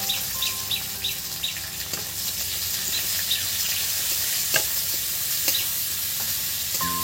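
Chopped onions fry in hot oil for ghugni with a continuous close sizzle broken by occasional stirring clatters, while faint bird chirps sound in the background.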